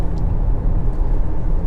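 A Volkswagen Golf GTI lapping the South Track at Sepang Circuit, its engine and road noise a steady low, dense rumble that holds without a break, close and fairly loud.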